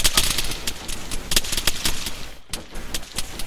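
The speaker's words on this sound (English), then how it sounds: "You're taking heavy fire from the south." Heavy gunfire from a game of airsoft or paintball-style skirmish, rapid loud cracking shots in fast bursts with short pauses, close and continuous throughout.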